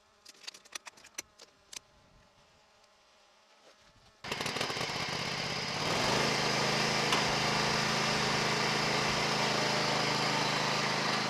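A small tractor fitted with traction aids drives up a hill, its engine starting abruptly after a few sharp knocks and then running as a steady, loud drone that grows fuller partway through.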